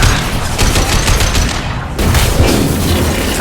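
Loud, dense gunfire and booming blasts in a Mass Effect 2 combat mission, a continuous barrage of rapid shots close and heavy throughout.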